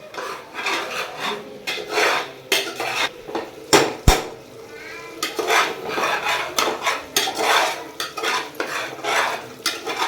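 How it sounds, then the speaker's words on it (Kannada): Onion, tomato, ginger, garlic, turmeric and chilli fry in a pan while a utensil scrapes and clinks against the metal in repeated rasping strokes, with a faint sizzle underneath and no talking. "ಈರುಳ್ಳಿ, ಟೊಮೆಟೊ, ಶುಂಠಿ, ಬೆಳ್ಳುಳ್ಳಿ, ಅರಿಶಿನ ಮೆಣಸಿನ್ಕಾಯಿನೆಲ್ಲ ಹಾಕಿ ಚೆನ್ನಾಗಿ ಫ್ರೈ ಮಾಡ್ತಿದ್ದಾರೆ."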